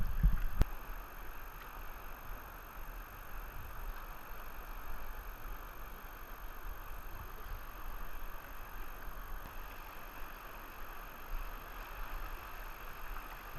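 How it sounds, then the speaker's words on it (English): A kayak moves on fast water over rocks, a steady broadband rush and wash of flowing river that continues throughout with no voices, after a brief knock at the start. "Keep paddling towards me."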